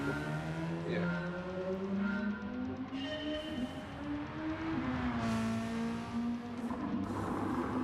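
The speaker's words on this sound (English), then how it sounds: "Looks really good, that car. It just sounds like a bag of nails." A rough, gravelly car engine from a racing video game drones steadily with rising and falling pitch, loud and close, with occasional tire noise and no talking.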